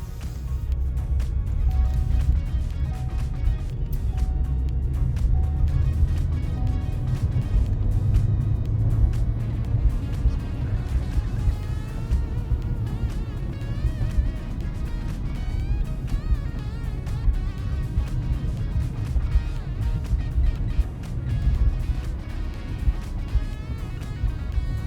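2016 Chevy Cruze cruising at about 40 while the brakes are applied, giving a continuous low road and engine rumble with tire noise that holds steady and close.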